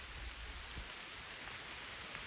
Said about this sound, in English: it is now raining and hailing really hard